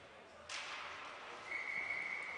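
A referee's whistle at an ice hockey face-off, a faint, thin sustained tone arriving in the second half, after a sharp thud, over rink ambience.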